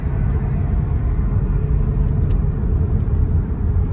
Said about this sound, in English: The car is running now.